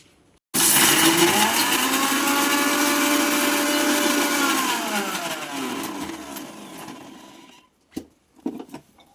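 An electric mixer grinder whirs loudly as it grinds fried naleru (veld grape stems) for a chutney, a steady high whine that slowly winds down, followed by a few short rattling knocks of the jar.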